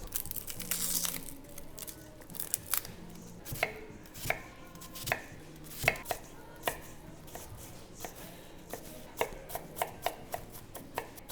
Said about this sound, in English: You can dice them into smaller pieces, however you like.